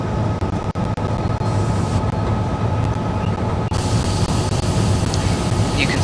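A rail head treatment train in a train simulator game, a class 66 locomotive hauling the spray unit, runs along with a steady loud rumble and rolling wheel noise, with brief clicks from the track.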